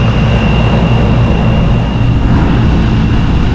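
Blower motor of a rooftop HVAC unit in Bradenton, Florida runs with a loud, dense, steady whoosh and low rumble, a thin constant whine riding on top, unbroken throughout with no talking.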